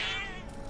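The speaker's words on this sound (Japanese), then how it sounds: "怎么这么多猫啊" In Final Fantasy VII Remake, a cat's drawn-out, wavering meow sounds loud and close over the game's background ambience.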